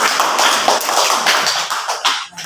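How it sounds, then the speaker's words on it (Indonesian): A primary-school classroom of fourth-grade pupils and their teacher applauds together in a dense, loud burst of many hands clapping that fades out after a couple of seconds. "mari kita tepuk tangan untuk"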